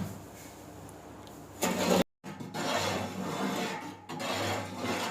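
Sugar and lemon salt being mixed by hand, a coarse gritty rubbing and rasping of granules, with a brief sharper scrape, a short silent gap, then continued steady rustling up close.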